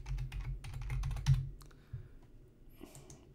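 Typing a folder name on a computer keyboard in Windows 11, a quick run of close, light key clicks followed by a couple of isolated taps.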